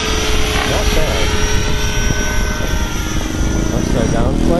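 A radio-controlled model F-16 jet flies overhead, its engine a loud, steady, high-pitched whine with layered harmonic tones that shift slightly in pitch as it passes.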